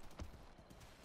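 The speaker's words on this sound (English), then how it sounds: "Oh, you're just a goat, dude." In the video game Far Cry Primal, a goat's hooves clop softly in a brief irregular patter. Several faint, muffled steps are heard, with no talking.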